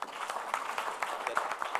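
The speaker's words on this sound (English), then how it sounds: "a round of applause for our speakers" Audience applause for speakers at a live-streamed National Student Financial Aid Scheme event, a brief, steady patter of clapping from a moderate crowd, fairly faint and continuous throughout.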